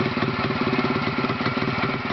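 A freshly repaired 353 motorcycle engine with a reground cylinder and second-repair piston idles close by with a steady, even, pulsing thrum and no voices.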